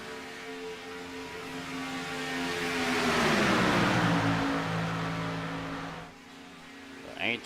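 Race cars in a sim racing game on the Talladega track: a swelling engine drone builds as a pack of cars roars past, then fades away, with a commentator talking over it.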